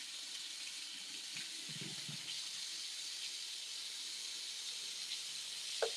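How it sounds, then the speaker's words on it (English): A running kitchen tap hisses steadily while maple mustard aioli is rinsed out, with a few low clunks of a container in the sink and a sharp knock at the very end; no one speaks. "Let me rinse out this mustard aioli, maple mustard aioli at that."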